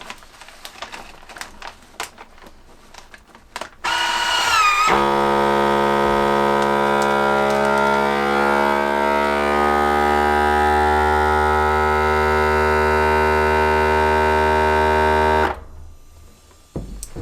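A vacuum sealer motor starts with a click and runs for about eleven seconds as a loud, steady droning hum with a rising whine while sealing a bag, then cuts off abruptly, with faint handling noises before and after.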